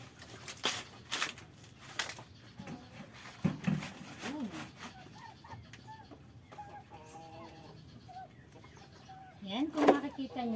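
Several chickens, including Rhode Island Reds, cluck intermittently at close range while pecking at banana leaves in a farmyard, with scattered soft vocalizations over rustling and background noise.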